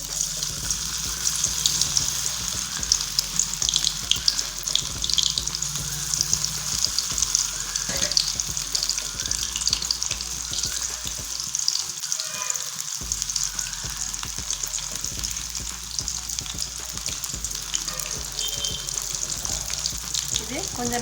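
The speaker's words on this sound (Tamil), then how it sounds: "பாருங்கள், நல்லா ஃப்ரை ஆகிட்டுருக்கு." Soya chunks fry in hot oil in a pan, giving a steady, bubbling sizzle throughout with occasional clatter and a brief dip midway.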